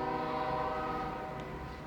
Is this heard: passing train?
yes